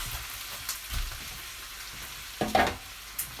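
Sausages and pork being added to a hot pan for cassoulet, with a steady close frying hiss and a few louder bursts of sizzle and scraping as they land and are stirred.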